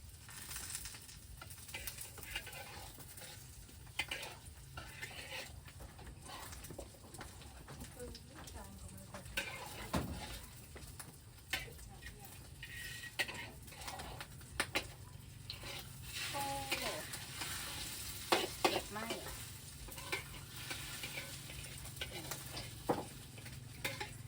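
Minced pork with holy basil stir-fried in a pan makes a continuous crackling sizzle, with frequent sharp scrapes and clinks of the utensil against the pan and faint background voices.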